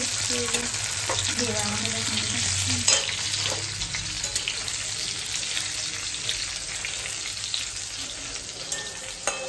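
Oil crackling and sizzling loudly in a pan while aloo dum cooks at an indoor picnic, a dense continuous frying hiss with scattered pops and stirring scrapes, close up and without speech.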